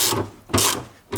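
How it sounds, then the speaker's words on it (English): A ratchet with a 12mm socket loosens a bolt on a Toyota Prius XW20 while its 12V battery is being replaced, giving three close, rasping bursts of clicking with short pauses between them and no talking. "12mm socket what fits in this part in here, and now I open this bolt"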